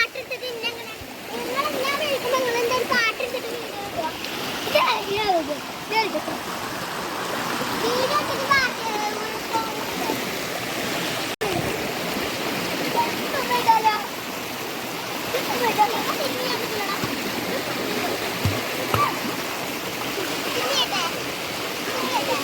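A shallow stream flows and splashes continuously where children are bathing, with water rushing steadily and children's voices talking and calling over it.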